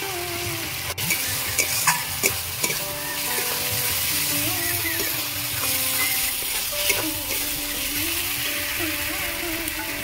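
Ginger paste, turmeric and fried tomato sautéing in oil for a Bengali bombay duck curry, a constant close sizzle broken by a series of spatula taps and scrapes throughout.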